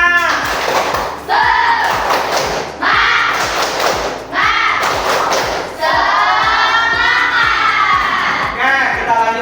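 Students performing the tepuk semangat chant, rhythmic group claps and thumps in a steady beat mixed with children chanting and shouting together, loud and close in a classroom.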